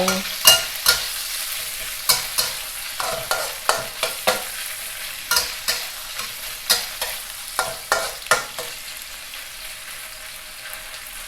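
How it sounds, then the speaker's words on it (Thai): Salted fish and garlic stir-fried in a wok, a spatula scraping in a steady rhythm about once a second over a low sizzle. "เอา ปลาเค็มที่เราหั่นไว้นะคะ ใส่ลงไปผัดกับกระเทียม"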